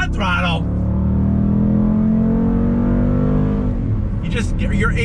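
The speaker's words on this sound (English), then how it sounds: "you have the growl of that amazing V8" A 2021 Dodge Durango SRT's V8 engine growls steadily under throttle while driving on the road, a loud continuous drone that rises slightly in pitch, with brief bursts of other sound at the start and end.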